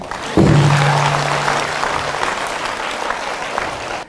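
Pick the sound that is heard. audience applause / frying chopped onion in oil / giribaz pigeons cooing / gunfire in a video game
audience applause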